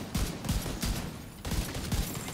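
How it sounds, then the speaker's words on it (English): Shotgun blasts in The Division 2 boom in a quick rhythmic string of about six heavy shots, loud and close, with no voices over them. "Damn, I love these shotguns."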